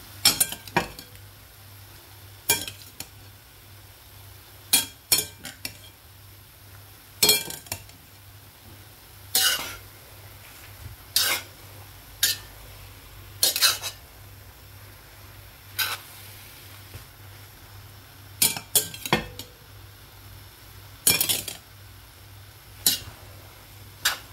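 Vegetables go into stir-fried bihon noodles in a pan alongside fish balls and shrimp, giving a faint steady sizzle with repeated sharp clinks and scrapes of a utensil against the pan, close by and without talk.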